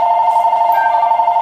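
A telephone ringing loudly and close, a steady electronic bell tone sustained without a break through the moment.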